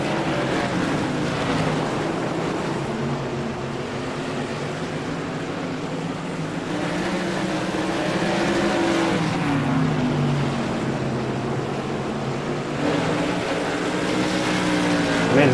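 Whelen Tour Modified race car engines in the iRacing sim at Concord, a continuous throaty drone with shifting pitch as several cars run together after a restart, steady and fairly loud.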